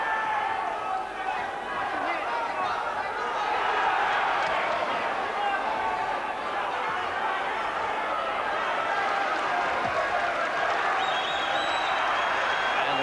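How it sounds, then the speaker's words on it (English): A 1990 boxing crowd in an arena during Billy Hardy vs Orlando Canizales cheers and applauds in a sustained, dense roar of clapping and voices. The din stays steady and far, with chatter mixed in. "Crowd there really being stirred by this comeback, as it were, by Hardy"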